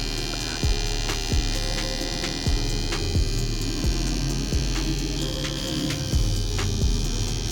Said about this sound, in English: the trimmer is now running smoothly